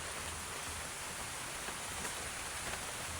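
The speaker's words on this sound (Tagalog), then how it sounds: "Kumapatak na naman po ang ulan guys." Steady rain falls in a constant, even hiss without gaps, moderately loud and close by.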